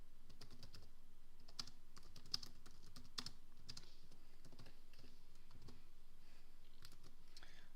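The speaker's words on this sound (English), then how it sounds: "I'm typing my notes in the other window" Notes being typed on a computer keyboard: quiet, steady key clicks tapping at an irregular rhythm, close but faint, with no one speaking over them.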